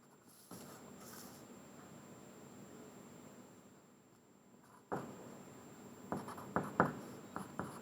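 Pencil strokes scratching across paper as lines are drawn along a straight edge for a math exercise, a faint steady hiss followed by several short, sharper scratches and taps near the end.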